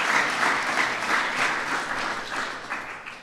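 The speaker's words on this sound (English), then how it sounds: "That's worth applauding." A large audience applauds at a US-Africa trade celebration, a dense, steady wash of clapping that fades slightly toward the end.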